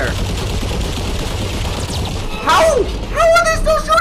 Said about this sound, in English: How are they still shooting me?